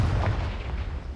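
A Confringo fire spell bursts in Hogwarts Legacy, a deep booming blast with a rumbling low-end tail that stays loud through the short moment without fading away.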